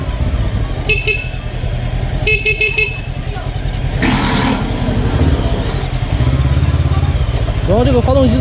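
A Gaokin Storr 500 motorcycle engine idles and runs steadily at low speed, a smooth continuous rumble close by, with a couple of horn toots and traffic noise around it.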